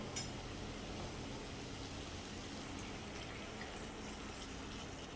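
Water poured into a pot of Agri-style bombil (Bombay duck), brinjal and potato rassa curry, a continuous close gushing splash that runs steadily for about five seconds without any talk.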